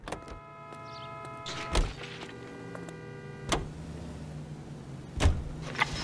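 A car in the LA Noire video game, heard from inside, hums with a low steady engine tone, broken by a few sharp thumps and clunks spaced a couple of seconds apart.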